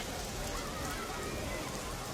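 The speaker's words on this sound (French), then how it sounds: "la pluie qui tombe sur Fadan et qui met fin à la sécheresse" Steady, dense rainfall patters evenly on a surface, a continuous soft hiss with no other sounds standing out.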